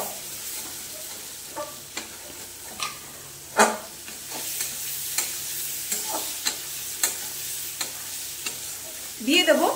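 Chicken pieces sizzle steadily in a pan with cumin powder, salt and turmeric while being stirred, with repeated scraping and clinking of the spoon against the pan over the continuous frying hiss, close and alone.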